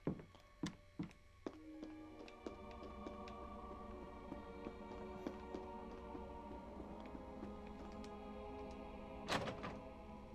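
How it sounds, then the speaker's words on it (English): A locked door in The Da Vinci Code video game thuds and rattles without opening. A few quiet knocks come early, a soft mechanical hum runs under them, and one sharper thunk lands near the end. "The door will not open for some reason."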